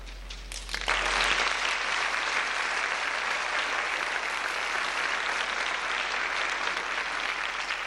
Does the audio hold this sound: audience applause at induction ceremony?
yes